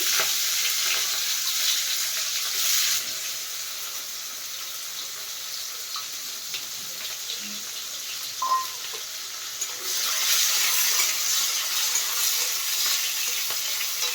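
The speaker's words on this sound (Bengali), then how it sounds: "এবার ওই তেলে দিয়ে দেওয়া হচ্ছে গোটা গরম মশলা আর তেজপাতা তার সাথে দিয়ে দেওয়া হলো পেঁয়াজ কুচি" Whole garam masala, bay leaves and chopped onion fry in hot oil with a steady, fairly loud broadband sizzle, a few soft clinks of a utensil, and a brighter surge of crackling toward the end.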